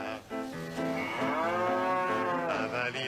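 A cow moos in one long, loud, drawn-out low call, near and clear, with no talking.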